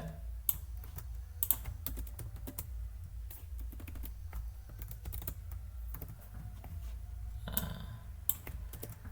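Steady close typing on a computer keyboard while Python code is entered, a continuous patter of key clicks with occasional louder strikes and no talk.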